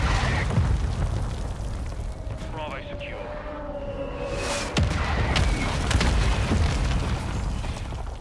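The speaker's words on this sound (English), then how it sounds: "You guys got a mortar strike on B" Mortar strike explosions in a Call of Duty multiplayer match, heavy booming blasts rolling through dense game noise, with chatter and game voice lines running over the top.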